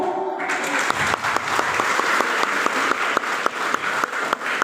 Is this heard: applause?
yes